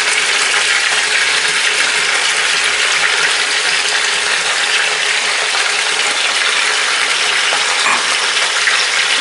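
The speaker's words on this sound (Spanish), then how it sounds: "Le vamos a echar la cebolla." Chopped onion sizzles loudly in a pot with browning chicken for chicken in tomato sauce, a dense continuous hiss of hot oil, close and steady throughout.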